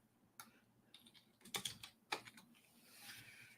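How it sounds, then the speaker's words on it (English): Typing on a computer keyboard: a few scattered clicks and short bursts of keystrokes, fairly close and quiet, with no voices. "Let me just type that in my."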